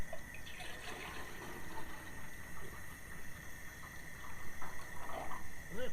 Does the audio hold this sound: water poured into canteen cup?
yes